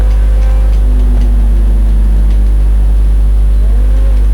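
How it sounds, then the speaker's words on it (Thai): A tuned car in the racing game GTA V revs its engine hard and continuously, a loud, steady droning roar with a fast ticking rhythm running through it and no voices. "เร่งเหมือนแบบเครื่องจะหลุดเลย"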